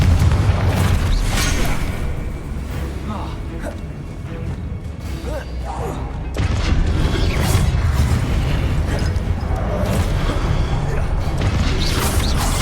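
A Confringo fire spell explosion in Hogwarts Legacy, heard as a loud, dense rumble of booms, crashes and magical impacts running throughout, with no clear pauses.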